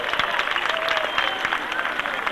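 A crowd at a 1992 concert in Casoria claps in a dense, steady ovation, close and loud for the whole stretch.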